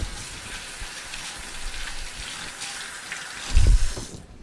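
Tap water runs steadily into a kitchen sink during washing up after frying pork schnitzel, a close even hiss with a brief louder knock near the end.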